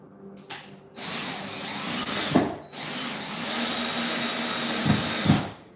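A power drill drives screws into a wall to hold an ultra-short-throw projector mount, whining loudly and steadily in two long close bursts, with a few strained dips and thumps where the screw resists.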